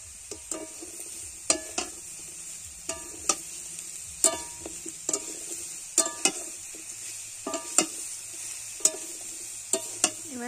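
A fish and taro curry is stir-fried in a pan, with sharp spatula scrapes and knocks at irregular intervals over a steady sizzle of frying, heard up close and without talk.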